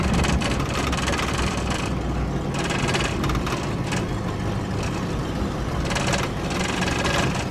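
An Oldsmobile car engine runs with a steady broadband rumble, held at raised RPM throughout, continuous and fairly loud with no voices.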